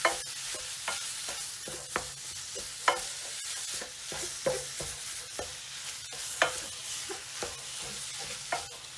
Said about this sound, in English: So we start by cooking the mince.